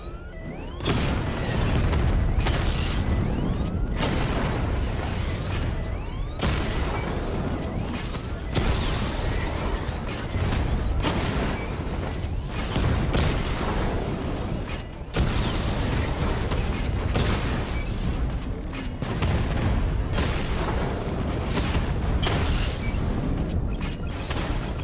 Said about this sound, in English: then you have tank mode, which basically transforms the Batmobile into a battle tank